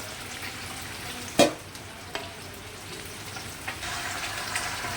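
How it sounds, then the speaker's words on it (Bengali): Potatoes and taro (gathi) sautéing in a pan with a little water, a soft steady sizzle running throughout, broken by a few brief clinks of a spoon against the pan. "এর মধ্যে আমি দিয়ে দেবো গাঠিটা। একটু ভালো করে কষিয়ে নিয়ে"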